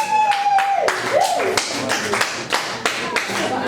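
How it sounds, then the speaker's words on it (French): Students applaud in a classroom: a few sharp, separate claps that form uneven rhythmic bursts at close range, mixed with voices and a whistle-like tone. "Est-ce qu'on peut applaudir tout le monde, s'il vous plaît?"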